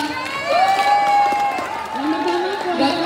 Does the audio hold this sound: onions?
no